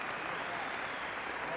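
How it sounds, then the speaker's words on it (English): Town hall audience in Rio Rancho, New Mexico, breaking into steady, dense applause that fills the short moment at even volume. "Please give her a big round of applause."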